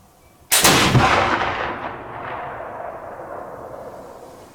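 A single heavy blast from a Kibler fowler loaded with a large charge of black powder, a sudden loud boom that rolls off into a long, slowly fading outdoor echo.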